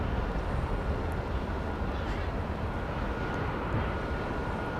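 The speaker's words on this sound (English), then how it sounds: "I believe this is a flight coming in from" Passenger airplane arriving from Phoenix at Dallas Love Field, a steady broad jet engine rumble at moderate distance that stays level across the whole stretch without voices.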